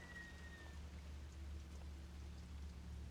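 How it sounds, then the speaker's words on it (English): Rain in the video game Fatal Frame: Maiden of Black Water falls as a steady, soft, dense patter under a low background hum. "Oh, is it because it's raining? They're traveling through the rain?"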